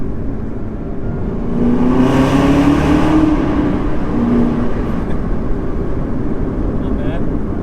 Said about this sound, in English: A tunnel coming up, so the stock exhaust sounds.